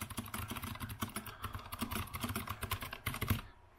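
Rapid typing on an Azio Retro Classic mechanical Bluetooth keyboard, a dense run of close, crisp clacking keystrokes that stops abruptly at the end.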